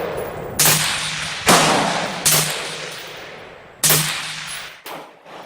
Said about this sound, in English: let's reshoot that three-shot group and record it this time.